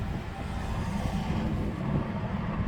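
A car engine runs at a steady, close idle, giving a continuous low rumble with no change in pitch, and no one talks over it.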